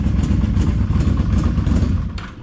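A Yamaha V-Max motorcycle engine idles steadily and loudly close by, with a deep, even rumble and light mechanical clatter throughout.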